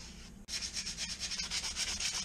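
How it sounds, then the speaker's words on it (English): Degreaser being rubbed by hand onto a classic Mini's bulkhead to lift brake fluid, a close, steady scrubbing rasp that swells and fades in quick strokes after a short pause. "I'm going to put a bit of degreaser on this, try and get rid of some of the brake fluid."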